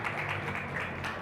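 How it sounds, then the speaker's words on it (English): Audience applause at a blockchain conference session: a brief, even wash of clapping from a seated crowd welcoming speakers onstage, steady and moderately quiet throughout. "Please give a round of applause to these guys here"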